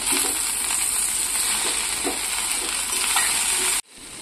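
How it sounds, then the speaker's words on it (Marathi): Aloo bhindi with potatoes and okra is stirred with dry spices in a pan, giving a steady close sizzle and scraping for almost four seconds before it cuts off abruptly. "सुके मसाले घातल्यानंतर याला छान मिक्स करून घेऊया"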